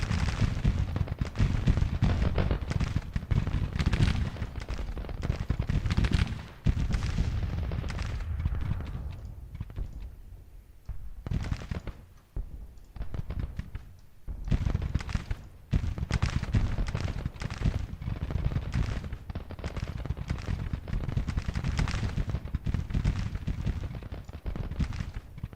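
Battle of Stones River in the Grand Tactician strategy game: a dense, rolling crackle of massed musket volleys and booming artillery, continuous and loud, easing briefly midway before building again.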